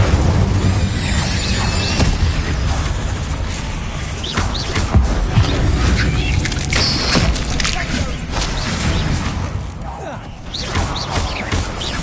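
Bombarda and Confringo spell explosions in Hogwarts Legacy erupt as booms and bursts amid cavern combat noise, with a voice shouting spell names over the repeated blasts.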